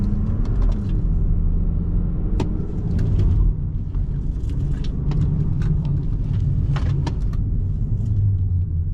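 A production car's engine drones loudly and steadily through a slalom test at Papenburg, with rumbling low tones and scattered sharp clicks and knocks as it weaves.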